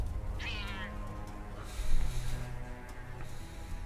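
A cat meows once in the video game Forspoken, a short rising call near the start, over quiet game ambience with no talking.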